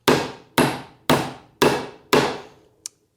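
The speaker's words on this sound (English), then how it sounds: "I'm going to drive it very carefully so I don't get any hammer marks in the surface of my work." A hammer drives a nail flush into wood: five loud, evenly spaced blows roughly half a second apart, each ringing briefly and fading, followed by a small light tap.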